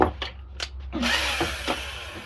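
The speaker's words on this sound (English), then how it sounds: "Cordless screwdriver." A cordless screwdriver starts with a few short clicks, then whirs steadily for a couple of seconds, close by.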